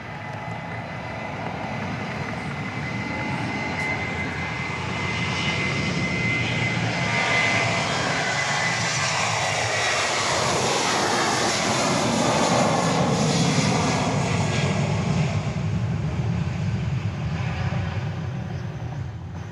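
A Southwest jet airliner takes off from Dallas Love Field at night, its engine roar building into a loud, broad rumble that swells and then slowly fades over about twenty seconds, with no talking.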